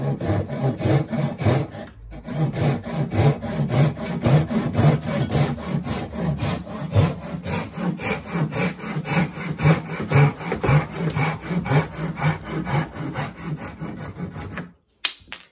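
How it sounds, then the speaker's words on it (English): A hand saw cuts through wood for a wooden hot rod pedal car, steady back-and-forth rasping strokes close up and loud, with a brief pause early on and the strokes ending just before the close. "we're just going to cut them by hand, old school"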